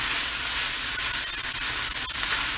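Steady, dense sizzling of grass-fed ground beef, about 15% fat, frying in a hot pan, a continuous crackling hiss with no voices.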